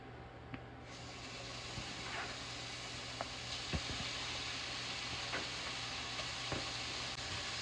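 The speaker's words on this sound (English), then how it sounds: "we're gonna add 4 slices of our chopped up bacon" Chopped bacon frying in a hot pan over medium-high heat, a steady quiet sizzle with occasional small pops and ticks throughout.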